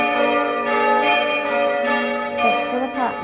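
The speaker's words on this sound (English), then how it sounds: "So Philippa and Saskia, I've just seen you ring some bells" Bells of St Francis Xavier's Cathedral in Adelaide ring in a loud, sustained, overlapping peal, with steady strikes sounding one after another.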